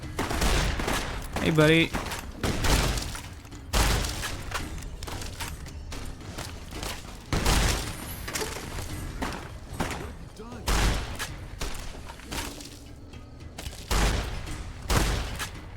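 Grenade rifle fire and blasts in Fallout New Vegas come as repeated loud bursts every couple of seconds, with steady gunfire and a brief spoken voice mixed in.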